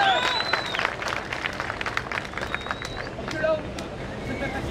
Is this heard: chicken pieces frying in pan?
no